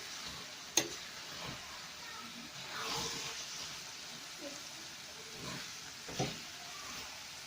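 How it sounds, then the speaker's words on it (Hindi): Bottle gourd (lauki) being stirred and mixed in a pan, with soft intermittent scraping and light sizzling over a quiet hiss, plus one sharp knock of a utensil early on. "यहाँ पे मैंने सारी लौकी इसमें ऐड कर दी है और इसको अच्छे से मिक्स करेंगे।"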